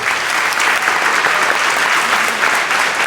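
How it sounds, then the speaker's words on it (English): Audience at a business masterclass session applauding the panelists, steady dense clapping that fills the room for the whole stretch, close and loud, with no talk over it. "can we give it up also for Michael O'Shaughnessy and the panelists?"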